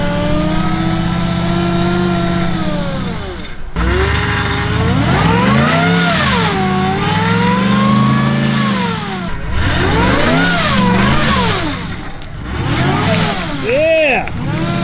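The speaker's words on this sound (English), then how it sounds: "Havoc racing trucks" Havoc racing trucks on a rock crawling race course, engines revving hard in repeated rising and falling surges, loud and close, with short drops between bursts.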